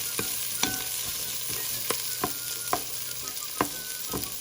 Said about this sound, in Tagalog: we have to stir it, making sure the onion and the garlic is turned light brown and cook, and also the ginger